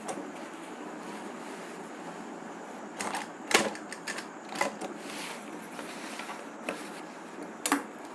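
A sewing machine stitches a salwar, a continuous mechanical whir broken by sharper clacks and ticks that come in scattered bursts, close up with no talking.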